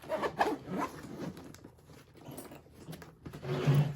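Zippers on a soft tool bag rasp open and closed in quick, close, scratchy pulls, with some fabric rustle and handling between strokes.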